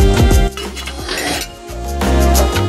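The contents of a frying pan, caramelized onion and stuffing ingredients, are tipped into a dish, with loud metallic scrapes and clinks of the pan against the dish followed by a soft sliding rumble.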